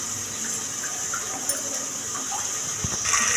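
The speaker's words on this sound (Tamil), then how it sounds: "இப்போ நம்ம எடுத்த மெஷர்மெண்ட் அளவுக்கான பவுல் தண்ணியை இப்போ ஊற்ற போகிறோம்" Water pours steadily into a pot of soaked rice for vegetable pulao with a continuous splashing rush, a few faint clinks near the end.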